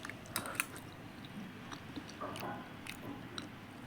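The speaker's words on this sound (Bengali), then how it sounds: "ঠিক এখন খিচুড়ি খাচ্ছি।" Someone eats khichuri close to the mic with soft, quiet chewing and occasional moist bites and mouth clicks, in irregular rhythm.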